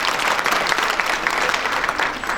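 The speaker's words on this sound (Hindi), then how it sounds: "एक बार जोरदार तालियां बजा दीजिए" Loud, dense applause from an audience in an auditorium at a Hindi book launch and poetry gathering, a steady wash of many hands clapping without a break for the whole stretch, with no voices on top.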